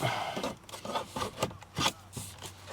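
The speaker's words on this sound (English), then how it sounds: "I'll do something like this and then turn it or twist the trim tool like that" A plastic trim tool is twisted to pry car trim loose, giving a series of short scraping and creaking rubs of plastic against plastic, close and fairly quiet, with no talk.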